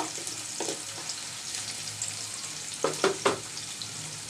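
Garlic and onion frying in a pan give a continuous close sizzle, with a few quick scraping stirs around the middle and a couple of sharper clanks near the end.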